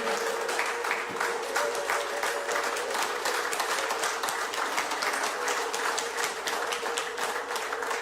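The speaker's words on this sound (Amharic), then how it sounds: "በታላቅ እልልታና ጭብጨባ እግዚአብሔርን እናከብረዋለን" A church congregation claps steadily and at length during worship, with a sustained high tonal trill that fits ululation woven through the dense, even applause.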